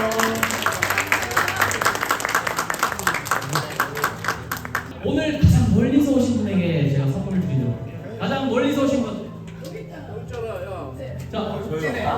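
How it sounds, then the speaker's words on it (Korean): Guests applaud at a self-hosted first birthday party held at home, a burst of clapping from a small group filling the first five seconds, followed by a host talking over quieter room noise. "박수 한번 주세요"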